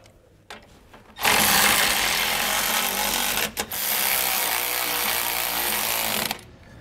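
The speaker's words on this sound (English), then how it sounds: "we're gonna go ahead and tighten all of these down with our socket wrench" A power tool runs a socket on flange nuts while a MORryde X-Factor crossmember is installed on a trailer frame, a loud steady whir lasting about five seconds with a brief break partway through.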